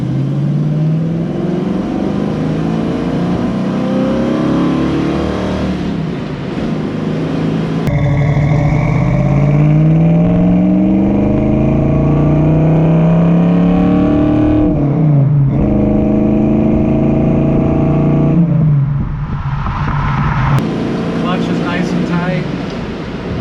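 A 1966 Ford Mustang engine rumbles loudly on a test drive, revving up and dropping back through several gear changes with a rising and falling drone, heard from inside the car while people talk over it.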